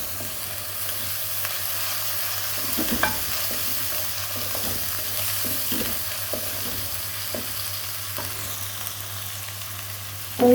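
Lightly browned onions fry with a constant sizzle while a spoon stirs and taps against the pan at an uneven pace, close and alone without voices.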